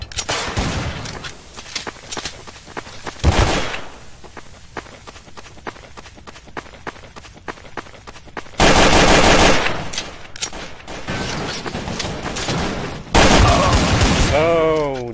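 Counter-Strike: Source gunfire on the Dust 2 map, rapid bursts and single shots mixed with running footsteps, with dense louder stretches of automatic fire and players talking over it.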